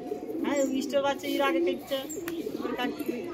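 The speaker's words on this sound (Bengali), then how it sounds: "দেখুন পায়রাটা" Domestic pigeons of a green-tinged breed coo in soft, throaty rolling phrases close by, repeated through the moment, while a person talks over them.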